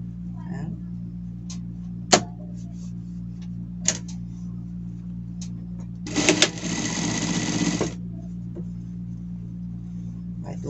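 A sewing machine stitches a seam on a denim pet shirt in a brief buzzing run of about two seconds, preceded by a few sharp clicks over a steady low hum.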